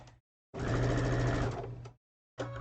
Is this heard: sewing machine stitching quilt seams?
yes